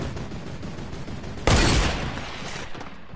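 A sudden loud burst of gunfire erupts midway through a shooter video game, cutting in sharply over quieter ambient game sound and then trailing off.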